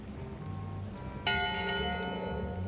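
Ship's bell aboard a pirate ship in the Monkey Island adventure game, a single bright clang that rings out partway through and then lingers and decays over a low background, with no talking.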